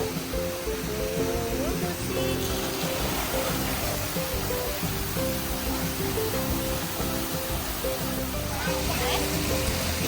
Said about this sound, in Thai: มีน้ำพุน้ำพุให้ด้วยนะคะ ที่สวนน้ำเรา